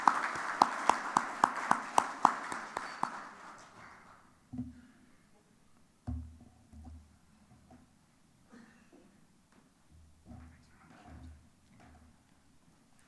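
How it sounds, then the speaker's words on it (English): Conference audience at an international tax event applauding, a burst of clapping for about three seconds that quickly fades, followed by quieter room noise with scattered thumps and brief voices. "can we have a big round of applause for Dr."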